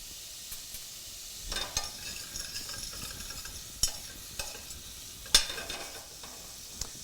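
Mushrooms sizzle gently in a pan with whole butter, a garlic clove and thyme sprigs, a soft continuous frying hiss punctuated by occasional louder stirring clacks and scrapes, close and fairly quiet.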